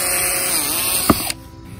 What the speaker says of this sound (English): I'm just gonna drill some holes kind of sporadically around